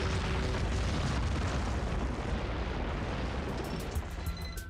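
Asteroid impacts pounding the surface of the moon, rendered as a loud, continuous wall of deep rumbling booms and crackling blasts that fades slightly toward the end.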